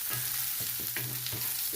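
Onions sizzling and frying over raised heat in a pan for radish curry, a continuous close crackling hiss broken by several stirring scrapes.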